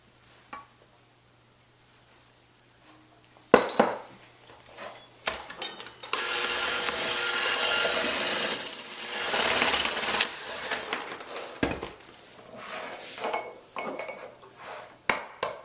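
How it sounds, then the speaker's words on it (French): Butter and sugar being creamed in a bowl for traditional doughnuts, with a steady whirring churn from roughly six to ten seconds, framed by scattered clinks and clatters of kitchen utensils. "On va crémer le beurre et le sucre."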